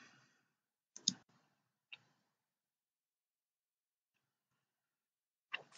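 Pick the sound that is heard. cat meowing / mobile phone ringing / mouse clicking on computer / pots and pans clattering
mouse clicking on computer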